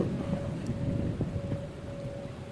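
Steady heavy rain pours down over Tenali railway yard in a constant wash of noise, with a low rumble underneath and a faint tone running through.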